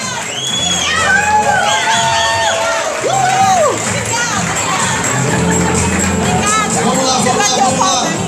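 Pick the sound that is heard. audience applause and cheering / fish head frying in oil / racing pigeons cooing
audience applause and cheering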